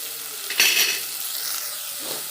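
Onion, tomato and ginger garlic paste sautéing in a pan for mutton kulambu: a steady soft sizzle with a brief louder burst of stirring and scraping near the start, no voices.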